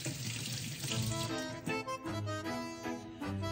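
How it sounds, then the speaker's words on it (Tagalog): Tomatoes rinsed under a running kitchen tap for a simple stir-fried cabbage with shrimp, a steady close splash of water in a sink with soft shifting tones as the fruit moves through the stream. "Hugasan natin ang ating kamatis."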